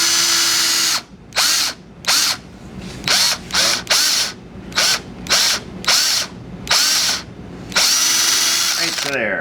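A power drill whirs in about nine short bursts as it drills into wood, stopping and starting in a steady rhythm, close and loud.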